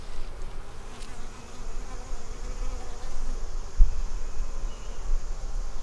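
Honeybees hum in a steady, dense buzz from an opened beehive during a hive combination, a close continuous drone with a faint thump partway through.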